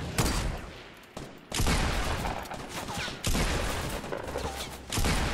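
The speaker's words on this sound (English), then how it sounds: "There's someone else shooting at me." Sustained gunfire in the Fortnite battle royale game, dense and loud, in long continuous bursts broken by brief gaps, with no talking.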